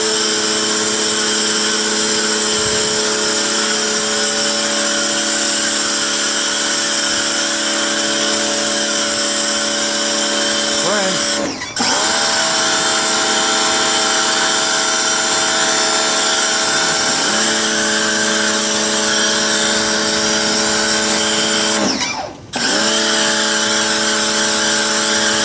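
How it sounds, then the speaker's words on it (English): A pressure washer runs with a loud, steady motor whine while a foam cannon sprays the engine compartment of a Jeep, and the pitch dips and briefly cuts out twice as the trigger is released and squeezed again. "And now we're ready to blast some foam."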